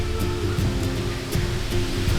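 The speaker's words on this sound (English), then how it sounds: "We're going on a small little hike, like at the side of Thi Lor Su Waterfall." Continuous rushing water from Thi Lor Su Waterfall in Thailand, a broad, steady roar, with soft irregular thumps and footsteps nearby as someone walks along a trail beside it.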